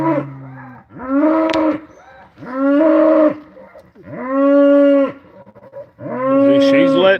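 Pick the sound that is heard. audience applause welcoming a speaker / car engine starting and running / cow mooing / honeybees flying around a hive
cow mooing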